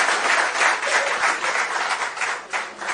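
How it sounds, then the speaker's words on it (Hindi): Audience applause at a political rally in Rajasthan, a dense, steady wash of many hands clapping that carries on throughout, fairly loud and close, with no talk over it. "एक बार गोपाल जी के लिए भी एक बार तालियां दे बजाएं।"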